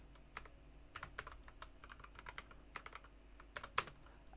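Typing on a computer keyboard: quiet, irregular key clicks in quick runs with a few louder taps, close but faint, with no talking.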